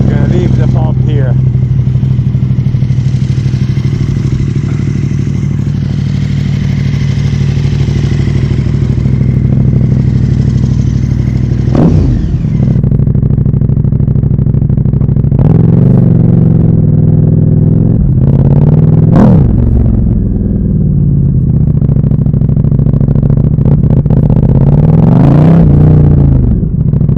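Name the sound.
motorcycle engine started with keyless ignition fob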